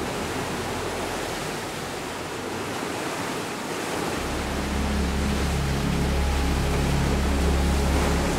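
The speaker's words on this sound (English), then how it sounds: "waves constantly break against the rugged shore" Steady, roaring surf crashes against the rocky shore of Runde island, Norway, a continuous broadband wash with deep low rumble that swells louder in the second half.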